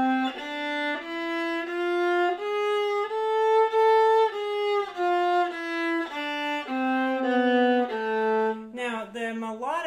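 A viola plays a one-octave A harmonic minor scale with sustained bowed notes stepping up and back down, close and clear, with no talk over it.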